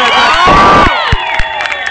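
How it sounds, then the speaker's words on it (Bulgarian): Loud crowd at a supermoto race awards ceremony cheering and shouting for the winner, voices whooping close by with a few sharp claps and thumps as the noise fades. "Аплодисменти и за победителят Ангел Карарадов от Карарадов Спорт"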